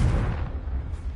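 A Confringo fire-blast spell explodes in Hogwarts Legacy, a short, heavy, low rumbling boom that fills the moment and then fades.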